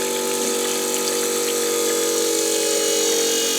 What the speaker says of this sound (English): Pump's working now.